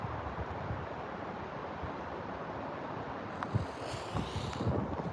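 Strong, steady wind roars outdoors among trees in California during a fire, buffeting the microphone with a constant low rumble and gusting slightly harder near the end, with no talking.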